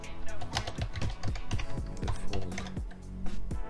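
Quick keystrokes clatter on a computer keyboard while code is typed, a steady run of sharp, close clicks with uneven rhythm and no talking.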